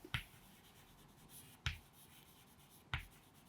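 Marker or chalk strokes on a board: three sharp, separate scratching taps spaced about a second and a half apart in a quiet room.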